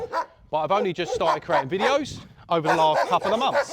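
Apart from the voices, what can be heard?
dogs barking in Greece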